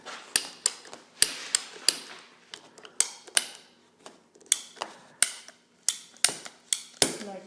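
A ratcheting PVC pipe cutter clicks sharply and repeatedly as it is squeezed through plastic pipe, giving close, crisp snaps in an uneven rhythm with no speech.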